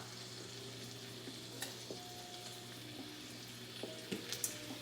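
Steady frying sizzle from a pan heating for honey glazed salmon, a low crackling hiss with occasional small pops and clinks of a utensil, close by with no talking.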